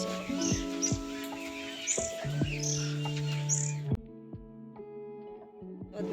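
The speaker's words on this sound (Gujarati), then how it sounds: "પક્ષીઓ કિલ્લોળ કરી રહ્યા છે." Birds chirp in a tree at a rural home in early morning, short repeated high tweets over a low droning hum and a few thuds, moderately close, fading partway through.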